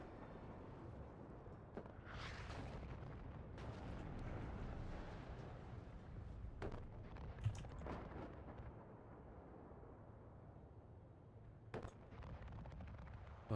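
Artillery fire in the WARNO video game: a low, continuous rumble of distant explosions with scattered sharper blasts and cracks, fairly faint overall and without talk.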